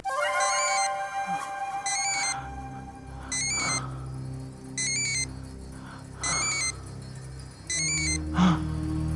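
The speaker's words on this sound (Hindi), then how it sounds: "यहाँ किसी फोन की आवाज आ रही है।" Mobile phone ringing from inside a garbage bin in a crime-drama scene: electronic ring bursts repeat roughly every two seconds, moderately loud, over a low steady musical drone.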